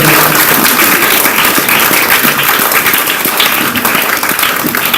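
An audience at a junior quiz competition gives dense, steady applause, loud and continuous with no talk over it.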